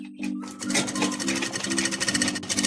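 A sewing machine runs in fast rhythmic bursts, stitching a small plastic sack into a market bag, a loud buzzing whir that pulses and stops briefly between runs, with no voices.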